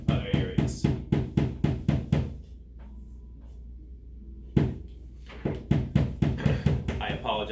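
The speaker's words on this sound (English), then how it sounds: "I have neighbors who are clearly doing some construction" Construction work at a neighbor's place: a fast series of loud, sharp hammering knocks in bursts, a pause of near quiet, then the pounding resumes at the same rapid pace.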